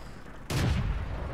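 Artillery shell impact in World of Tanks during a battle with a Churchill heavy tank: one sharp, loud booming blast hitting suddenly after a quiet stretch, then a rumbling tail that slowly fades.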